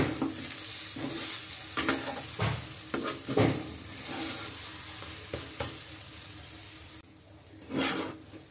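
Lentil filling for Bengali hing kachori frying in a pan, with a steady close sizzle, repeated stirring scrapes throughout and a brief quieter gap near the end before the sizzle returns.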